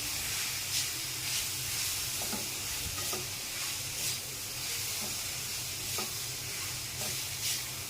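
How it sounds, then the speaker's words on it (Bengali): Water spinach (kalmi shak) frying in a pan gives a steady close sizzle and hiss, broken by occasional scraping stirs of a spatula, with no one talking. "আমার শাক ভাজা হয়ে গেছে,"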